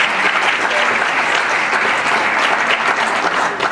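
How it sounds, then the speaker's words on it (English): A large conference audience at the closing session of Acquisition Excellence 2012 gives sponsors a loud, dense, continuous wash of applause that stays even and full for the whole stretch, without any speech. "Applause for them, please"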